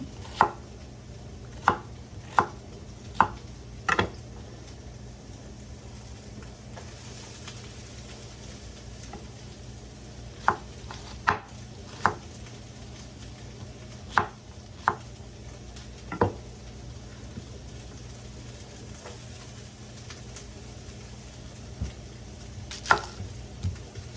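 A knife chops onions on a cutting board in scattered sharp taps, some in quick runs of three or four and others single, separated by pauses over a low, steady background hum.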